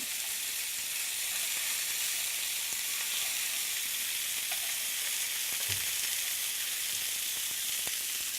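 Thin halibut pieces fry in a pan with an even, crackling sizzle that holds steady throughout, with a single soft knock near the end. There is no talk.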